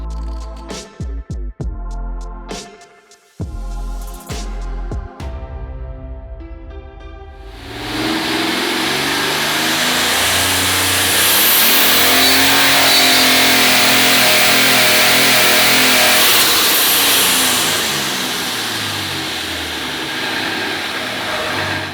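A 3200-horsepower billet aluminum Cummins diesel engine on a dyno, first a few sharp blips and revs, then a long roaring full-power pull that swells loud and holds before easing slightly toward the end.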